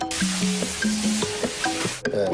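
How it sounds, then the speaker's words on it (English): Soft-shell crab deep-frying in hot oil, a continuous bubbling sizzle marked by shifting squeaky tonal pops and crackles, close and steady, with a brief dip near the end. "Or send sizzling soft-shell crab jizz into your face."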